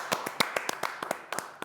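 Scattered hand claps at a virtual fashion show, about a dozen sharp, uneven claps in quick succession from one or a few people, fairly close and with no talking.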